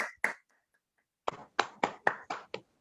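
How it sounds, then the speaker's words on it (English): Sparse applause for a lecturer at a youth peace and family seminar: a couple of hand claps, a pause, then a short run of about six distinct, fairly close claps with faint room echo. "Once again, give a round of applause to our Dr."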